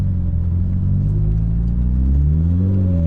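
Mitsubishi Evo 9 engine revving while driving, a loud, steady low rumble with rising, sweeping harmonics as the revs climb near the end, close and continuous with no talking.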